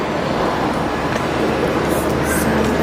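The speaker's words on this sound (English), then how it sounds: "So you can see here the train is approaching and we are going to in." A sky train in China approaches the station with a steady broadband rumble and rolling noise that grows slightly, with no clear talk.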